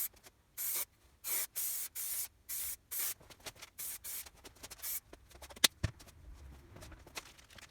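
Repeated short hissing bursts of spray adhesive land on Seat Concepts foam for a Honda CRF250L motorcycle seat, each spray about half a second long with brief gaps between, followed by soft rubbing and handling noises.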